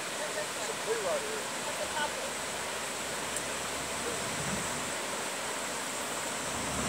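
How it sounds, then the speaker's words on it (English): The East Fork of the Pigeon River rushes with a steady, broad hiss of flowing water. Faint voices murmur beneath the constant noise. "Can you hear the river on the video here?"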